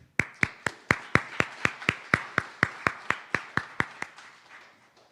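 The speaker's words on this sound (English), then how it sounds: "Please applause for her." About fifteen sharp, evenly spaced hand claps ring out in a steady rhythm at a Drew University gathering, fairly close and clear, with no talking over them.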